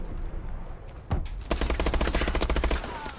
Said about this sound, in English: I definitely shot him.